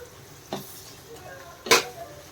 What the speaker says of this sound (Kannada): ಎಷ್ಟು ಪೌಡ್ರನ್ನು ಮಿಕ್ಸ್ ಮಾಡ್ತಾಯಿದ್ದೀನಿ